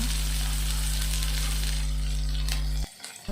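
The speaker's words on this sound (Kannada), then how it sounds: "ಎಣ್ಣೆ ಬಿಸಿ ಆದಮೇಲೆ ಮೊದಲು ನಾವು ಕಟ್ ಮಾಡಿ ಇಟ್ಕೊಂಡಿರೋ ಒಂದು ಈರುಳ್ಳಿ ಹಾಕಬೇಕು" Chopped onion sizzles steadily in hot oil for a tomato chutney, a dense, even frying hiss over a low hum that cuts off abruptly near the end.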